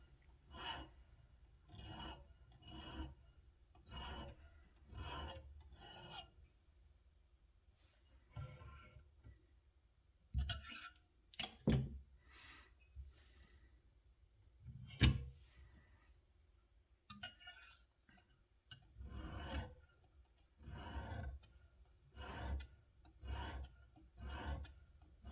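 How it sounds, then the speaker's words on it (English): A cheap kitchen knife is sharpened on both sides, giving bursts of short, regular rasping strokes against the stone, close and fairly quiet, with a pause in the middle broken by a few sharper scrapes and clicks. "This is whenever you're going to start sharpening both sides."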